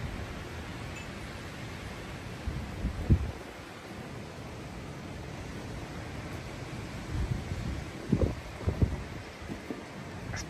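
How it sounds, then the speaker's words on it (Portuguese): A strong storm in Switzerland brings winds of about 90 km/h and rain. A broad, steady roar of wind and rain fills the whole stretch, with a few louder gusts or buffets near the start and toward the end. "Está o vento muito forte."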